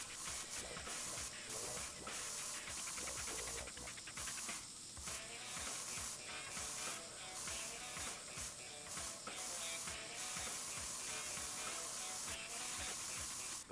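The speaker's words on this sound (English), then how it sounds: "So let's give it a spray." Spray can hissing paint in the Nintendo Labo Vehicle Kit game on Nintendo Switch, a continuous loud spray with rattling, ratchet-like mechanical pulses running through it, no voices.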